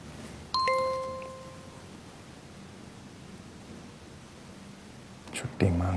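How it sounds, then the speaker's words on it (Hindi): A phone notification chimes once with a bright, clear ding that rings briefly and fades, set against quiet room hiss, followed by a muffled thump. "आपको नोटिफिकेशन आ रहा होगा।"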